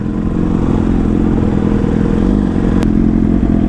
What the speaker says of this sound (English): What inline 4 melody, man.